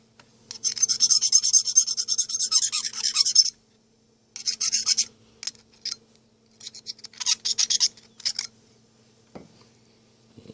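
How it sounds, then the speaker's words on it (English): Scraping a part of a vintage Sony PS-5520 turntable, heard as close, dry rasping strokes in repeated bursts separated by short silences, with a faint low hum underneath and no talking. "This needs to be scraped a little."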